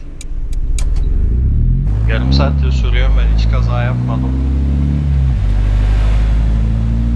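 A car engine hums steadily in Euro Truck Simulator 2, driving an Ikko Dena, a low continuous drone that runs throughout under someone talking.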